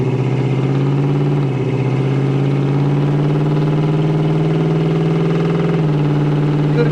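A 1976 Pontiac Trans Am SE with a stock-style 400 engine pulls hard under acceleration from inside the car, a loud steady drone rising in pitch with a brief dip near the start before climbing again.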